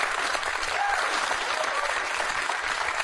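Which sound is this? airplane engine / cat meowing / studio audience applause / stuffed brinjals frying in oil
studio audience applause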